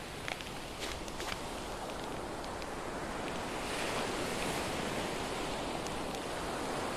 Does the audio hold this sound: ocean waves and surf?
yes